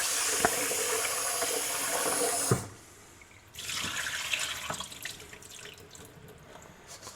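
Tap water runs steadily into a sink as rice is rinsed, stopping briefly midway before flowing again with splashy bursts from handling the grains, close and alone with no talk.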